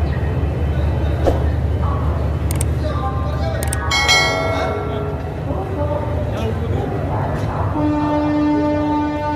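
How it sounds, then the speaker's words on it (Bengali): An Howrah–Ahmedabad Superfast train pulls out of platform 22 at Howrah station, its rumble steady under a busy platform. Bell-like chimes ring out partway through, a sustained horn-like tone enters near the end, and people talk nearby. "ট্রেন আমাদের বেরিয়ে যাচ্ছে হাওড়ার 22 নম্বর প্ল্যাটফর্ম থেকে অন টাইম 11টা 10 মিনিটে"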